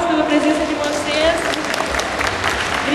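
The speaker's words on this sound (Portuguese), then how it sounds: "uma salva de palmas pela presença de vocês" Seated attendees at a labor-law seminar on outsourcing give a round of applause, brisk close clapping that runs throughout while voices talk over it.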